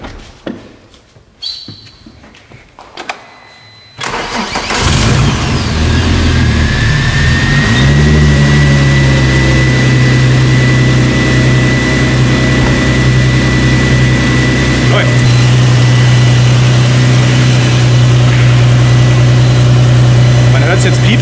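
A VW Golf 3 R32 engine cranks on a jump starter and catches, then settles into a loud, steady idle with a constant droning hum and a faint high whine, after a few seconds of quiet clicks and handling noise.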